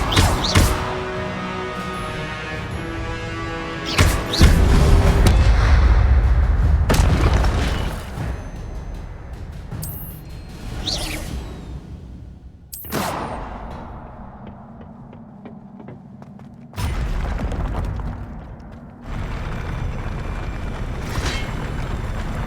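Levioso and Incendio spell blasts in Hogwarts Legacy on PS5, several loud booming bursts separated by quieter gaps, each crack followed by a rumbling fiery tail, with no talk.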